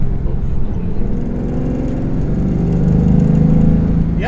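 A modified 1995 Pontiac Firebird Formula drives with a steady, close engine drone that swells slightly as it pulls harder toward the end, with no talking.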